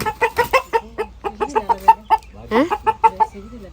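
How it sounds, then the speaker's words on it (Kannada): A chicken clucks nearby in a rapid, bouncing series of short calls, pausing briefly before another burst of clucking. "ನೋಡಿ ಅವರ ಮನೆಯ ಕೋಳಿ"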